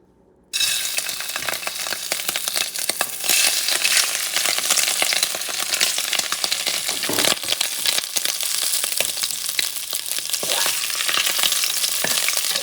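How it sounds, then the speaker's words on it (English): Shrimp drop into very hot extra virgin olive oil and set off a sudden, loud, continuous sizzle that crackles steadily with no talking. "now that it's preheated, and this is very hot by the way, carefully I'm going to add the shrimp"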